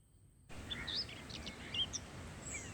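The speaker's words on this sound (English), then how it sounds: "When birds are singing, they are talking." Birds sing in several short, high chirps and whistled notes, faint and somewhat distant, over a soft steady background hiss.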